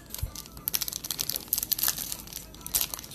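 Thick plastic card sleeve being handled during a sports card break, crinkling and rustling in quick, irregular bursts close by, fairly quiet, with a voice talking at times.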